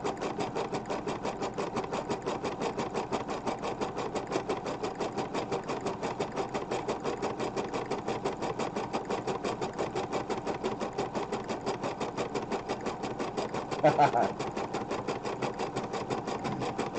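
An embroidery sewing machine stitches out ornaments with a fast, steady mechanical chatter, close and constant throughout, with one brief louder clack near the end and no talk.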